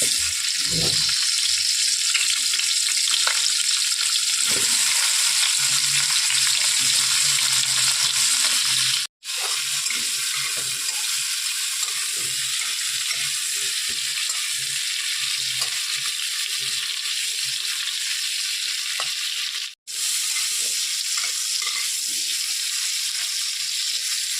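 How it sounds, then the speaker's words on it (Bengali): Potato pieces coated with salt and turmeric fry in a pan of hot oil, giving a steady close sizzle throughout with occasional stirring clinks and two brief breaks. "আলুতে অল্প নুন হলুদ মাখিয়ে আমি ভেজে নিচ্ছি।"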